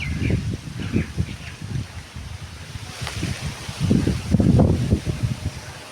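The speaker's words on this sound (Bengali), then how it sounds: "প্রচুর বাতাস হচ্ছে তার জন্য ঠিক মতন ক্যামেরা হচ্ছে না" Strong outdoor wind beside a fruiting jujube tree buffets the microphone, making loud, low, uneven gusting rumbles that swell and fade throughout.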